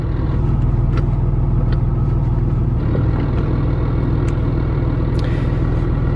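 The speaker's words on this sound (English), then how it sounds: "See, there's the gear rollover noise." Gear rollover noise from a 6.7L Cummins truck fitted with a dual disk clutch: a low, steady drivetrain rumble with a rapid rattling pulse underneath, continuous and fairly loud inside the cab.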